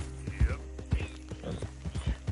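A horse's hooves clip-clop in Red Dead Redemption 2, an even rhythmic run of about a dozen hoof strikes over roughly two seconds, moderately loud and close.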